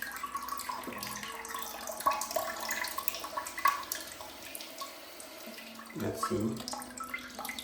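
Water sprays steadily from the rear wash nozzle of a Casta Diva smart toilet with built-in bidet, a continuous hiss and splash close by, with a short spoken remark over it.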